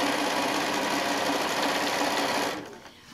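A sewing machine stitches through a quilt tack on a quilt made from fat quarters, a close, fast, steady whirring hum that runs continuously before stopping abruptly near the end.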